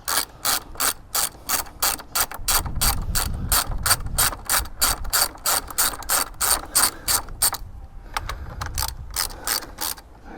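Rapid ratchet clicking in steady bursts as tight bolts are worked loose on a Yamaha MT 125 motorbike, close and loud, with brief pauses between strokes and no talk.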